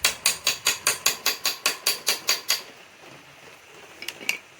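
Metal tapping as a motorbike gear is knocked into place: about a dozen steady, evenly spaced ringing strikes in quick succession, then a pause and two lighter clinks, close and clear with no talking.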